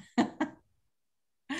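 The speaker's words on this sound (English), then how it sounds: "somebody's coughing" A person coughs twice in quick succession, fairly close and clear. Silence follows, then another short burst of sound.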